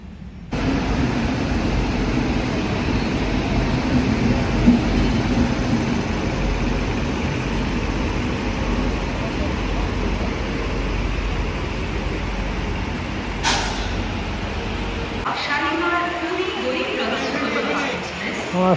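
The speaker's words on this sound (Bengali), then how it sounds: "আসছে শালিমার পুরী গরিবরথ এক্সপ্রেস" The Shalimar–Puri Garib Rath Express rolls into a station as a steady, loud rumble that persists for many seconds, with a brief sharp screech near the end and a quieter tail as it slows.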